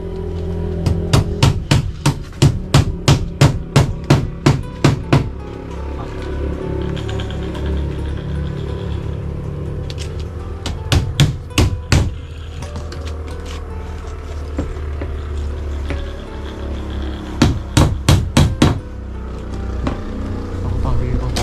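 Nails are hammered in sharp, regular runs of loud metallic strikes, several quick series separated by pauses, over a steady engine-like background drone with some talk.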